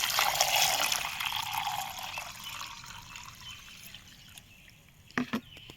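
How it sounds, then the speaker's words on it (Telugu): Water pours into a mug holding turmeric and jaggery, making a close, bright gush that thins to a trickle and ends with a couple of small knocks, with no talking. "దీంట్లో వాటర్ యాడ్ చేయాలి."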